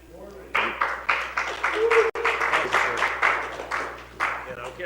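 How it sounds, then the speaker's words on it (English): Applause from the audience at a city strategic planning and visioning session as a speaker is introduced, moderate clapping in uneven bursts heard amid the room. "And I can't get that kind of applause anywhere"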